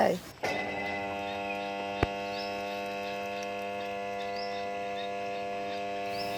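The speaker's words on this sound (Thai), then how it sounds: "ระบบปั๊มน่าจะมีปัญหาเพราะว่ามีเสียงแปลกๆค่ะทุกคนลองฟังดูนะคะ" A faulty electric water pump on a Thai mixed vegetable farm hums steadily with a strong buzzing drone, powered but pumping no water, after a brief scrape at the start and a single sharp click.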